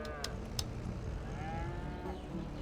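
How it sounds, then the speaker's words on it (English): Cows mooing in the farming video game Farming Simulator 22, a couple of long, drawn-out bovine calls over a steady low background hum, with no talk. "So hopefully these are happy cows."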